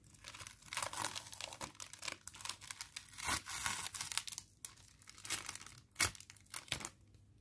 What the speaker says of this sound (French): J'enlève mon papier.